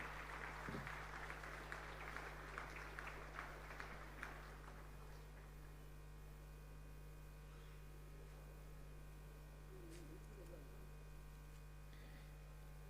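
A convention hall of tax practitioners gives a short burst of applause over a steady mains hum, the clapping fading within about five seconds and leaving only the low electrical drone.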